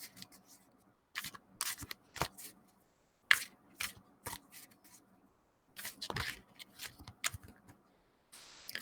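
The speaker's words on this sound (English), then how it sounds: "And then shuffle them however you so choose." Tarot cards being shuffled by hand in repeated quick bursts of riffling and sliding, with short pauses between, close and fairly quiet, no talking.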